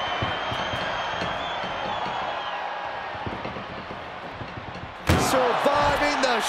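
An ambulance door in WWE 2K24 slams shut with a sudden loud bang against a steady background hum, followed by a voice speaking.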